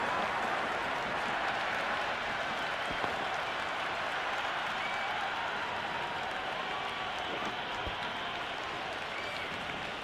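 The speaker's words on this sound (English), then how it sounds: "The crowd is electric right now." A stadium crowd in the cricket video game Cricket 26 applauds and cheers after an IPL boundary, a broad sustained roar of clapping and voices at steady volume throughout.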